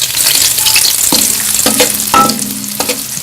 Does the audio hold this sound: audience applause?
no